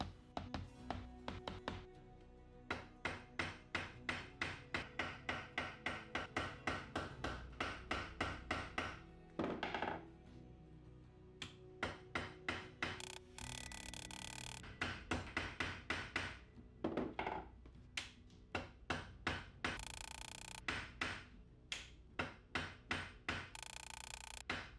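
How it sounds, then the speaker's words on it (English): Solid brass peening rivets being hammered into leather for a leather crown, a long run of sharp, rhythmic hammer strikes in quick bursts with brief pauses between sets, close and loud with no talking. "I love these solid brass peening rivets"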